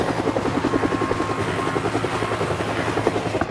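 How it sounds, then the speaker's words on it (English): A helicopter's steady rotor thump and engine drone fill the scene, loud and continuous, with rapid rhythmic blade chopping throughout. "The team was forced to land the helicopter in a clearing several miles away."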